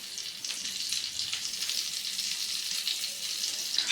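Moong dal appe batter sizzles steadily in a buttered appe pan, a continuous close crackle of frying with a faint clink near the end.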